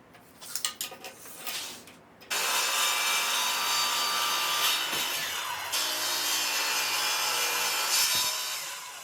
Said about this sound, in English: breaking down more rough stock, hopefully turning it into beautiful furniture grade lumber